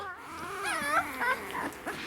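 A week-old puppy yelps and whimpers after its mother lies down on it, a thin, close series of rising and falling high cries over a faint room background, with no talking.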